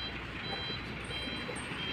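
A dump truck backs in at close range, its reversing alarm beeping steadily over a continuous engine rumble, with no talk in between.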